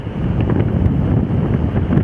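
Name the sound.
wind on a beach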